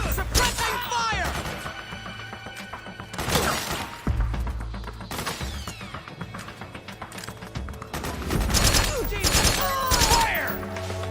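Gunfire bursts in the video game Metal Gear Solid 4, set in South America, come in several loud volleys over busy battle noise with music, horse sounds and shouted voices.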